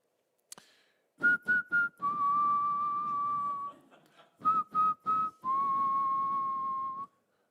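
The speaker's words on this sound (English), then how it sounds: "I just sang the opening lines to Beethoven's Fifth in C minor" The opening of Beethoven's Fifth Symphony in C minor whistled alone in clear sustained tones, short repeated notes followed by long held ones, the four-note motif sounding twice with a brief pause between.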